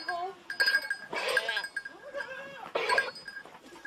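Goats bleat repeatedly at close range on a family farm, several loud cries rising and falling in bursts with brief gaps, amid general barnyard clatter.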